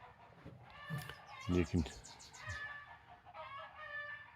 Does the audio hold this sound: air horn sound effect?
no